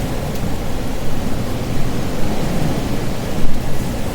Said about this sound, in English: It's pretty stormy out there